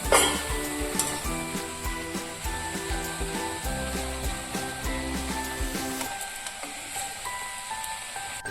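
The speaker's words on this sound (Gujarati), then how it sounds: "આ રીતે આપણે બધી પૂરી તળી લેવાની." Puris deep-fry in hot oil for a farali fasting thali, with a steady, moderate sizzle throughout under background music, easing somewhat near the end.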